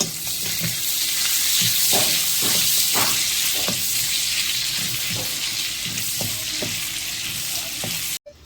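Butter sizzles and spits steadily in a hot pan while paneer maska chaska cooks, with periodic soft scraping knocks of stirring, and the sound cuts off abruptly at the end.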